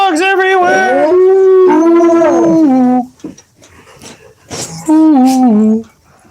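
Dogs howling indoors at home, a loud drawn-out chorus of overlapping howls, a short quieter gap with small whimpers, then another howl.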